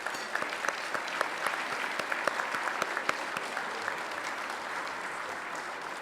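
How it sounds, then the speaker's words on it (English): Steady audience applause at an annual summit dinner, a dense wash of many hands clapping continuously at moderate distance with no talk over it. "Will you help me in giving Lieutenant Governor and elected officials a round of applause?"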